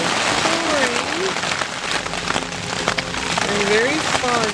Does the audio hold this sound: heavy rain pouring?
yes